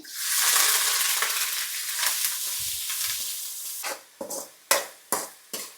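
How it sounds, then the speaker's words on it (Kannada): Chopped onion and curry leaves hit hot oil for a chicken curry, giving a loud, steady sizzle that settles, then a few sharp scrapes or stirs near the end. "ನೆಕ್ಸ್ಟು ಚಾಪ್ ಮಾಡಿರುವಂತಹ ಈರುಳ್ಳಿ ಮತ್ತು ಕರಿಬೇವನ್ನು ಹಾಕ್ತಾಯಿದ್ದೀನಿ"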